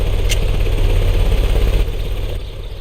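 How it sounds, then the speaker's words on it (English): A machine engine starts and runs in the Sherlock Holmes: Crimes and Punishments video game, giving a loud, low rumbling drone with a faint high whine that steadies and then eases slightly toward the end. "The engine has started."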